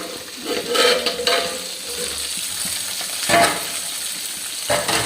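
Oil sizzles and crackles in a frying pan as garlic is added for a chicken karahi, with a few louder spits and stirring scrapes.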